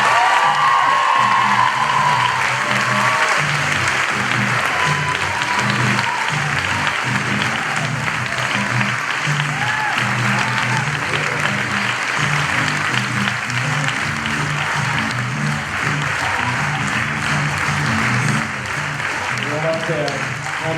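A stage show audience bursts into long, sustained applause with occasional cheers and whoops, a dense wall of clapping lasting about twenty seconds while people talk underneath.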